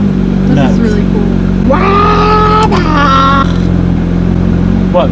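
A rebuilt 2024 Porsche GT3 RS engine drones loudly and steadily inside the cabin while driving, with voices talking over the constant hum.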